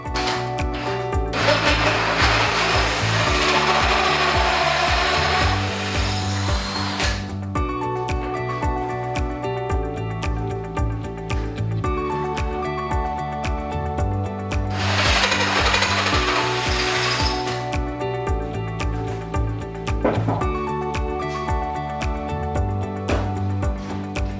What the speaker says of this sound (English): I'm gonna countersink the bolt heads down by about 1/4 of an inch all the way around